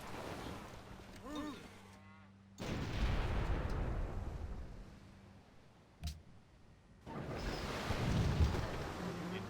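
Cannon fire in the strategy video game Civilization 5, several deep booming blasts of artillery against ironclads rolling out loud and broad, with a sharp crack near the middle and rumbling volleys before and after.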